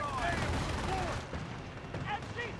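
In Company of Heroes at Vierville, battlefield weapons fire in sharp booming reports and bursts under radio-style voices.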